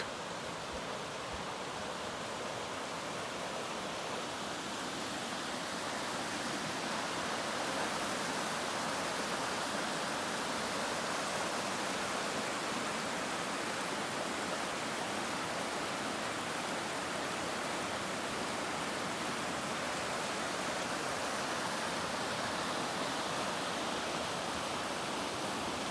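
San Diego River flowing near the old mission dam, a steady broad rushing wash of water that stays even throughout, no voices.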